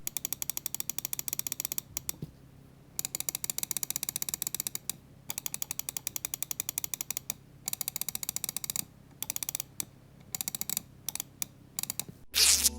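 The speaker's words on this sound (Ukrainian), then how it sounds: "Бокові кнопки тут просто чудові, дуже чіткий клік, без пре і пост-тревелу" Rapid, crisp clicking from the buttons of a Ninjutso Ten computer mouse, close and dry, running in dense bursts with a few short silent gaps and a louder rattle at the end.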